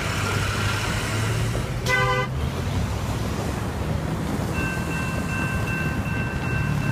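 CSX locomotive lash-up with a horn blast on the CN Halton Subdivision, a short harmonic horn toot around two seconds, then a steady tone later, over heavy wind noise and rumble outdoors.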